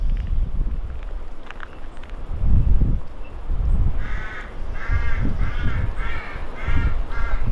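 Several crows caw in repeated bursts beside an unballasted railway track near a small line-side hut, loud and close over steady wind noise, with rustling in the background and no talk.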